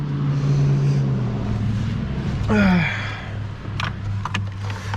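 A car engine idles with a steady low rumble and briefly revs up near the middle, with some light clicks and knocks after it.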